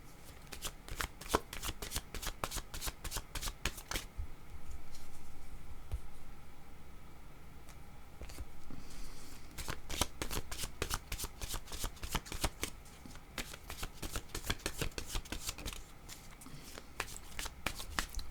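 Tarot cards shuffled by hand for a reading, a steady run of crisp riffling flutters and soft slaps, close and fairly loud, with a brief lull in the middle before the quick shuffling resumes.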